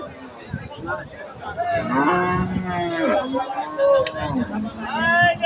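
At a rural cattle market, a seven-month-old cow lets out a series of long, loud, close moos, with people chattering underneath and around the calls.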